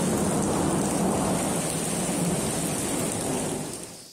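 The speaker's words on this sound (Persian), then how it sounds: "همدان، بارش شدید" Heavy hail and rain pour down at night in the city of Hamedan, Iran, a dense, loud, continuous roar of impacts that fades toward the end, with no talk.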